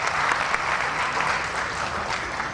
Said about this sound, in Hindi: जोरदार तालियों से आपका स्वागत करें।